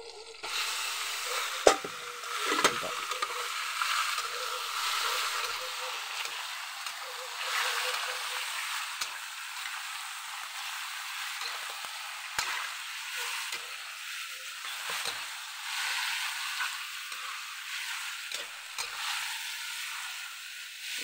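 Pork marinated in calamansi, soy sauce and pepper fries in hot oil with a steady, close sizzle and crackle that runs throughout. Occasional small pops stand out, and there is no talk.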